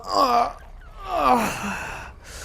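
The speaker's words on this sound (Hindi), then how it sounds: "उबासी लेने का वक्त हो गया" A close, voiced human yawn: a long drawn-out breath with a sliding, falling tone, then a second, trailing exhale.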